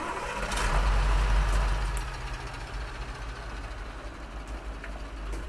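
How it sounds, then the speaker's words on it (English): Truck engine in Spintires: MudRunner cranking and catching, a loud low rumble swelling in the first two seconds, then settling into a steady idle. "Start the engine."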